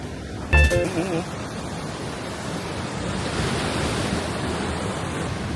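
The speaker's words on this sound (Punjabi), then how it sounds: "ਸਮੁੰਦਰ ਦੀ ਆਵਾਜ਼ ਹੀ ਬਹੁਤ ਜ਼ਿਆਦਾ" Sea waves break on a sandy beach at Kato Paphos, Cyprus, a steady broad roar of surf with wind buffeting the microphone and a brief tonal blip near the start.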